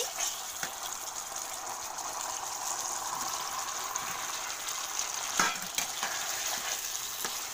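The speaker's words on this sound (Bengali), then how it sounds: "এতে আমি এবার পটলটা দিয়ে দিচ্ছি।" Pointed gourd pieces go into a pan of cooked poppy seed paste and fry: a soft, steady hiss and sizzle with a few sharp crackles and light clicks, fairly quiet and close, with no voices.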